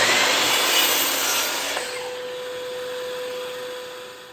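A hand saw trims the end off a wooden board for a small DIY planter, giving steady, close rasping strokes for nearly two seconds before the cutting stops and a faint steady tone lingers.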